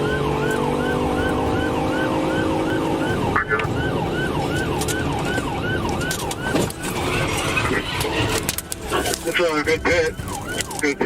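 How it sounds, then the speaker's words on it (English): A police car siren wails in rapid repeating sweeps during a highway pursuit, loud and close over road and engine noise, growing choppier toward the end. "When officers activated lights and sirens, the driver ignored them and fled onto I-395"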